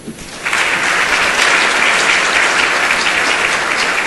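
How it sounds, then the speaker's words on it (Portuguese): Steady, loud applause from an audience at a special session marking an Assembly of God anniversary, rising quickly and holding dense and even throughout. "a quem eu peço uma salva de palmas"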